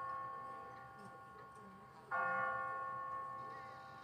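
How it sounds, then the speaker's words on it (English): An automatic church bell, set on a timer, strikes once in the Walking Dead game, a loud, ringing clang that blooms and slowly decays over a faint steady hum. "What kind of church bell goes off at 20 past the hour?"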